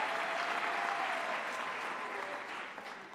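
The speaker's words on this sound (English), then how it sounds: "Can we give him a big round of applause," A ceremony audience gives a sustained round of applause at a university event honouring a vice chancellor, dense steady clapping that fades slightly toward the end.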